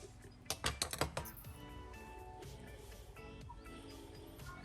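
A few sharp metallic clinks and rattles, then a steady whirring hum of a small electric fan motor spinning smoothly and more freely after its bearings were lubricated, fairly quiet and close.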